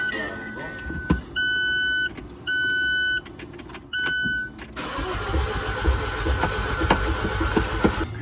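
An abandoned Alfa Romeo 4C cranks over in repeated starter bursts that stop and restart, then gives way to a louder, rougher running rumble. Nearby voices talk over it.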